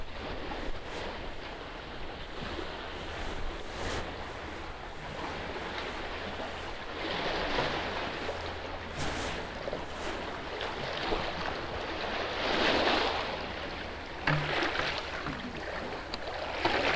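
Seawater waves wash against the shore as the tide comes in, a steady outdoor surf wash with wind buffeting the microphone, swelling slightly now and then, no voices.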